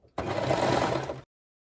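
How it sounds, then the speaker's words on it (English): An overlocker stitching a seam in T-shirt fabric, one steady mechanical run of about a second that starts and stops abruptly, close and alone. "I just pressed the overlocker pedal"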